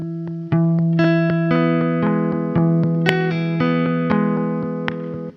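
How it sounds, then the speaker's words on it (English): A Poly Beebo synthesizer playing a sustained tone whose pitch jumps abruptly between random steps from a stepped LFO, each step marked by a sharp click, bright and buzzy, heard alone. "here is the random stepped LFO."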